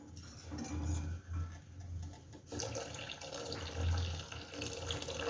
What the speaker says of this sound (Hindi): अब इसके अंदर 2 कप पानी और ऐड करेंगे।